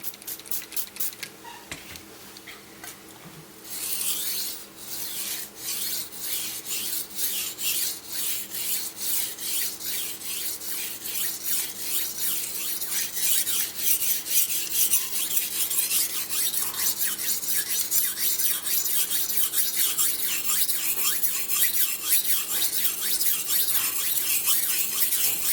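Steel knife blade rubbed back and forth across a wet water stone, a steady rasping scrape repeating in quick strokes that grows louder and denser toward the end, close and alone with no talk.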